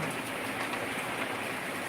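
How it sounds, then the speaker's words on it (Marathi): Steady dense hiss of heavy monsoon rain falling hard in Nanded district, a continuous even wash of noise with no pauses and no voices. "किती पाऊस आहे आमच्या इकडे नांदेड जिल्ह्यामध्ये भरपूर पाऊस पडत आहे"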